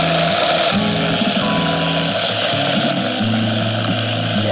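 Raw cashews, about a cup and a half, are ground in a kitchen grinder, a loud continuous motor whine whose pitch steps and shifts as the nuts break down, with no talking.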